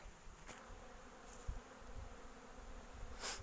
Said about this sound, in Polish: trochę się pszczoły zaczęły rabować